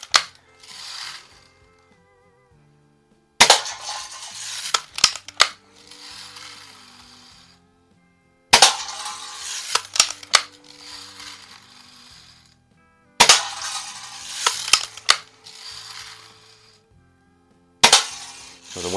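A 1946 Daisy Model 155 lever-action BB gun, first-year low-pivot design, fired in four bursts of sharp mechanical clicks and ratcheting lever cycles, each separated by a few seconds of quiet, close and fairly loud.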